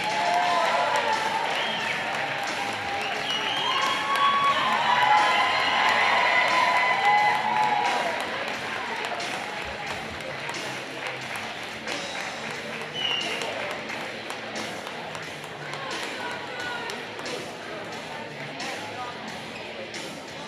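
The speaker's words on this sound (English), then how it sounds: "a round of applause for Dos Pueblos varsity girls wrestling team" A crowd in a gym at a high school girls' varsity wrestling meet gives a long round of applause for the Dos Pueblos team, with cheers and whoops. The clapping is loud at first and eases off after about eight seconds but keeps going.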